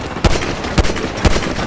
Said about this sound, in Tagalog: may bumabaril sa akin